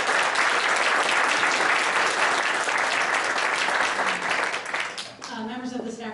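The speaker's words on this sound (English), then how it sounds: "Let's give all of our speakers a round of applause." Audience applause for speakers at a Stafford Citizens' Coalition evening meeting, dense and steady clapping for about five seconds before fading out as a voice begins to talk.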